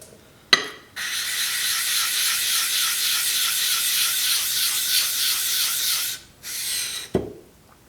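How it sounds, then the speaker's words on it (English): A 3/4 inch woodworking chisel is rubbed steadily across a sharpening stone in one long continuous stroke of close, gritty rasping, with brief scrapes before and after. "We're going to start by sharpening this 3/4 inch chisel"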